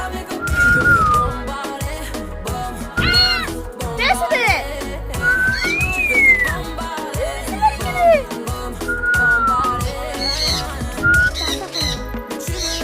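A grey parrot whistles in repeated short rising and falling phrases, close by and fairly loud, with squawks and other bird calls in a busy background.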